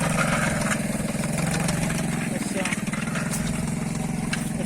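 A mini tractor pulls a shaker-type potato digger through a field, its engine chugging steadily at mid pitch with a rattling, pulsing texture, close and continuous throughout.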